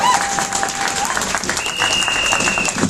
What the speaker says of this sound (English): Rasha deserves a big round of applause for organising this protest